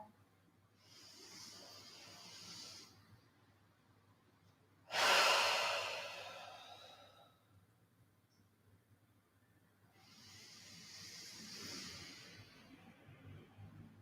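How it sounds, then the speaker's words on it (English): Deep yoga breathing during a hatha session, close and audible: a long full inhale, a held pause, a strong rushing exhale, then another slow inhale, all unhurried and alone. "you're going to use your next inhale to fill yourself up totally full, full to bursting"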